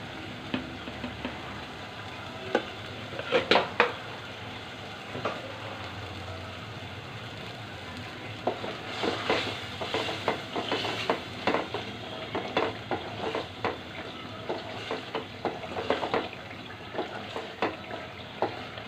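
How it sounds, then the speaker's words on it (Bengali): Rohu fish sizzles in spices and cumin powder in a pan, a continuous crackling fry marked by scattered scraping and clattering stirs that cluster in the second half, with no talking. "মাছটা আমি ভালো করে মশলার সাথে কষিয়ে নিব দিয়ে দিব জিরার গুঁড়া"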